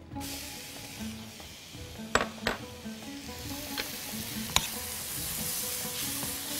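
Carrots frying in caramelized butter and sugar hiss with a steady sizzle, punctuated by a few sharp clinks of a utensil against the pan as they are stirred, with no talking.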